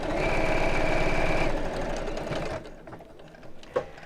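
A sewing machine stitches a bag in a steady, fast mechanical run, loud and close, for about a second and a half, then slows to a quieter whir with a few soft clicks and a short knock near the end.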